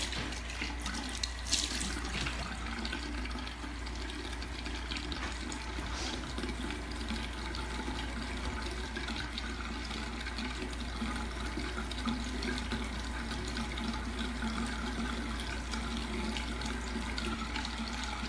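Water runs steadily from a tap into a sink while historical hair pieces are rinsed, a continuous close splashing flow with no talking.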